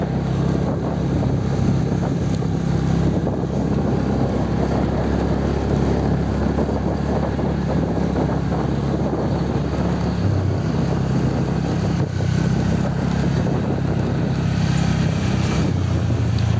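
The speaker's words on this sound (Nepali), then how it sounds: "म त स्कुटी कुदाउँदैछु।" A scooter rides along the road toward Chimli, its engine a constant low drone buried in heavy, steady wind buffeting against the microphone.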